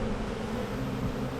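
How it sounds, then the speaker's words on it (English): Honeybees buzz steadily inside an opened hive box during a mid-April inspection, a dense, continuous hum close at hand with no talk. "A lot of bees"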